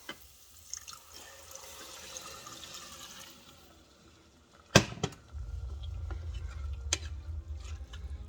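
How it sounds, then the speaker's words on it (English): Broth poured into browned rice in an Instant Pot: a sudden splash gives way to a steady, low, rushing pour that continues to the end, with a few light clinks over it. "And what I'm going to go ahead and do is throw in the broth."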